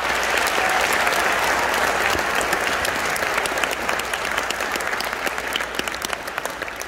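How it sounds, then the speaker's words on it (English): Loud, full applause from a concert audience for a junior high all-district band, a dense roar of clapping that holds strong for several seconds, then thins slightly toward the end. "Let's give them another round of applause"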